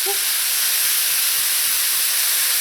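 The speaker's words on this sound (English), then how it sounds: "When your oil is hot, add in your minced meat." Minced meat sizzles in hot vegetable oil in a pot, a steady loud hissing fry that runs without a break and has no voices over it.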